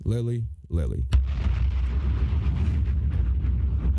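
Two short voiced sounds come first, then a sudden sharp blast. It is followed by a loud, rumbling explosion sound effect that keeps roaring and crackling for several seconds.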